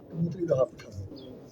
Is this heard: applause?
no